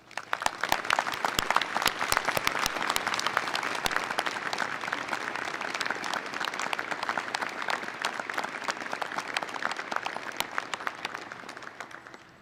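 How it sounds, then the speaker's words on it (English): A seated audience at a university business school hooding ceremony gives a long, steady round of applause, dense even clapping for over twelve seconds that fades slightly at the end. "please stand so that we can give you a round of applause"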